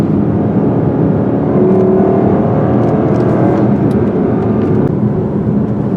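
A 2021 Lexus LC500 convertible driven hard on a back road gives a loud, steady engine roar and whir that holds for several seconds without a break. No one speaks.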